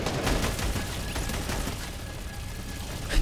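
Gunfire in Fortnite Chapter 2, a dense rapid burst of shots in a continuous fusillade, loud and close, running the whole stretch.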